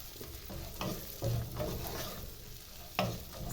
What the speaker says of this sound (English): I'm going to leave the onion to saute for about 2 minutes